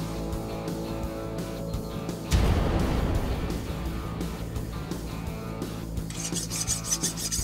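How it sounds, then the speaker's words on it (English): A hot forged sword blade with a steep curved arc is plunged into quench, setting off a sudden loud, broad hissing sizzle that keeps rushing steadily for several seconds. "Time to quench."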